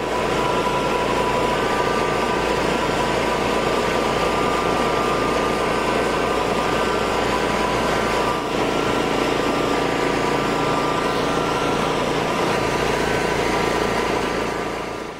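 A heavy propane-powered Aztec Ultra Grind concrete floor grinder runs at full throttle, a steady loud drone with a constant hum, unbroken for the whole stretch.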